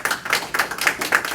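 Brief applause at a Chicago Board of Education monthly meeting, a handful of distinct claps in a quick, even rhythm, fairly close and clear, with no talk over them.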